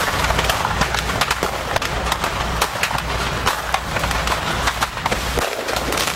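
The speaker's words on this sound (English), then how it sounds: "that is the sound of fireworks actually exploding" Fireworks exploding from a crashed truck in a dense, continuous barrage of rapid sharp cracks and pops, heard from some distance with an irregular rhythm and no clear pauses.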